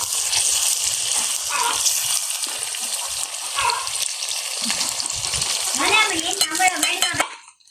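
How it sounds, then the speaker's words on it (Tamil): Onions and green chilies frying in hot oil for a prawn curry with a loud, continuous sizzle, with stirring and occasional clinks of a utensil against the pan. "வெங்காயம் வந்து நல்லா வடிவாக பொரிஞ்சிட்டு, பச்சை மிளகாயும் ஓரளவு பொரிஞ்சிட்டு"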